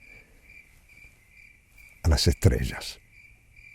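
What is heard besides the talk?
crickets chirping at night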